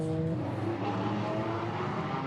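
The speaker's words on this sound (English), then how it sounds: "there's some cars on track" GT4 race cars run on the track at Barcelona during qualifying, with a steady, fairly loud engine roar and a high whining tone that shifts slightly in pitch.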